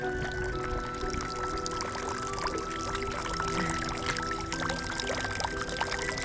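Steady, close water trickling and splashing from a small fountain, a continuous gentle flow with no voices.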